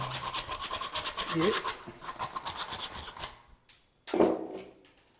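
A small hand file rasps back and forth across the freshly cut edges of a pipe in quick, steady strokes. It is close and fairly quiet and stops partway through. A brief scrape follows after a short pause.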